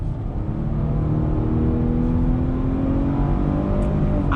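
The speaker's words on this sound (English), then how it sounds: "All right, guys, making a U-turn, very easy, very controlled, on throttle." A Nissan Pathfinder engine pulls steadily under light throttle through a slow, controlled U-turn, a continuous close hum with a gently rising tone and no voices over it.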